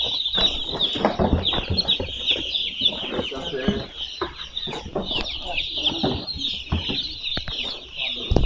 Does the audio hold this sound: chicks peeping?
yes